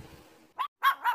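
A dog gives three quick, sharp barks in a row after a faint low rumble, close and fairly loud, with silence between them.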